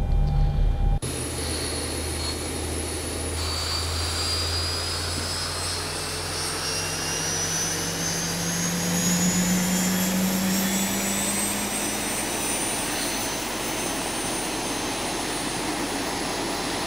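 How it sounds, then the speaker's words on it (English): Boeing 737 jet engine in X-Plane 11 spooling up after start, a sustained whine with tones rising slowly over many seconds beneath a steady roaring hum, continuous and fairly loud with no voices. "So both engines are running at this point."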